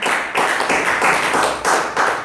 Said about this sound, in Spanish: Un aplauso con todo su corazón